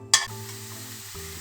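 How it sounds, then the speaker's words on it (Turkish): Apples and sugar sautéing in a pan: one quick stirring scrape, then a steady soft sizzle heard up close with no talking. "Bu şekilde kavuruyoruz. Elmalarımız suyunu verecek, daha sonra çekecek."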